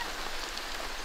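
Steady rain falling during the rainy season in the Philippines, a constant close wash of drops with no voices.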